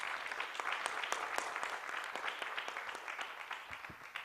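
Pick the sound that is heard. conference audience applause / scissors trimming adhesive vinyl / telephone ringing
conference audience applause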